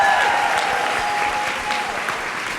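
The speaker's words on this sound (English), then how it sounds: "Caden a big round of applause" An audience at a student panel during a delegate assembly gives a student panelist a big round of applause, loud continuous clapping throughout, with a faint voice-like tone in the background.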